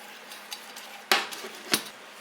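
A spoon stirs a sugar mixture for popcorn balls in a pot on the stove, scraping and knocking against the metal in a couple of sharp strokes over soft background noise, with no speech.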